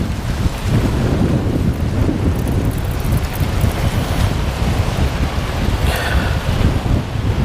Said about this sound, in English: wind got me.